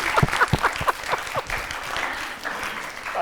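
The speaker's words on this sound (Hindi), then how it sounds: "इनके लिए तालियां बजाइएगा जरा।" Studio audience on a Pakistani morning talk show claps in a short burst, scattered hand claps starting sharp and close before settling into a softer, thinner patter.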